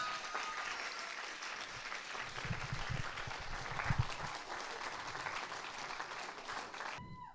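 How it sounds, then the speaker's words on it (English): An audience at a documentary screening gives a continuous round of applause, a dense, even patter of many hands heard faint and distant in the room, with no talk over it. "Kulsum Carwin, big hand of applause."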